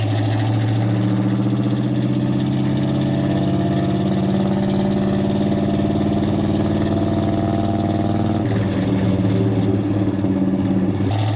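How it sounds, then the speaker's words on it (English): A 1969 Pontiac GTO Judge with a factory 4-speed idles loudly and steadily up close, its deep throbbing rumble shifting slightly in tone near the end, with no talking. "We are in a 1969 Pontiac GTO Judge in factory Starlight Black with a factory 4-speed."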